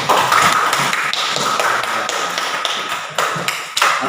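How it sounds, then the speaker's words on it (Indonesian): A class of students gives a short round of applause, a dense patter of clapping hands close by that fades slightly before ending. "kita beri tanda aplaus dulu untuk kita semua"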